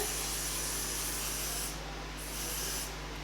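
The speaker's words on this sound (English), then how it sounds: "just spraying it on" A continuous, close hiss of hair product sprayed from a spray bottle onto a wavy wig, holding steady for a few seconds with a slight dip partway through.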